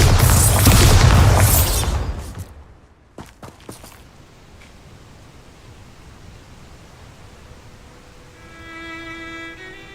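A Bombarda blasting spell from a wizarding video game detonates in a loud, full burst for about two seconds, followed by a few sharp pops, a quiet stretch, and a soft chiming tone at the end.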